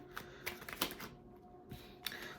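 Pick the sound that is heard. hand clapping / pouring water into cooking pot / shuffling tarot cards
shuffling tarot cards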